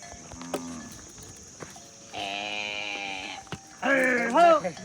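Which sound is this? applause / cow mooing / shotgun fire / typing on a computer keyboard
cow mooing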